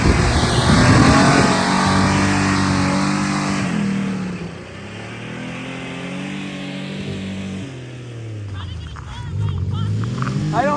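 Car with a manual transmission, in a homemade redneck airplane build, starting and revving, its engine note rising and falling in loud, close sweeps under occasional talk before dipping and climbing again.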